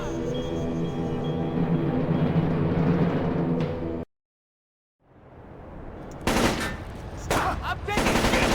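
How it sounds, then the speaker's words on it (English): Automatic gunfire in the video game Splinter Cell Chaos Theory, loud sustained bursts that cut to sudden silence, then return as sharp rapid volleys with game noise rising underneath. "Incoming fire!"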